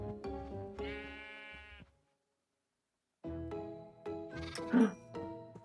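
Minecraft sheep bleat in a few clear, close calls, with one bleat, a pause of silence, then several more overlapping bleats.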